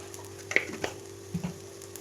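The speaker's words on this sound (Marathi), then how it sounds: "आता छान अशी ना तेल सुटेपर्यंत भाजून घेते" Spice paste with black chili powder and salt frying in oil for a fish gravy, a soft sizzle broken by a few stirring scrapes and taps, fairly quiet and close.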